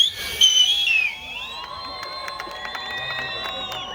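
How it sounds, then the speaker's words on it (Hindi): Loud, shrill human whistling at a live concert in Rohtak, a bright wavering whistle at first, then sustained tones and crowd noise without clear talk. "वैसे सीटी मारने का असली तरीका ये है"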